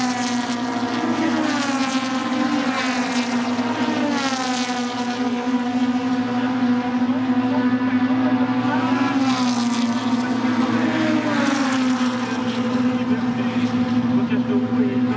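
A Formula Junior race car drives at the Dijon-Prenois circuit during the Dijon Motors Cup. Its engine holds a continuous droning whine that swells and fades in waves, with a commentator talking over it throughout.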